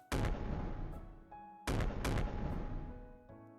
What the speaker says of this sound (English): A succession of fireworks mingle together, and occasionally a big one rises up to the heavens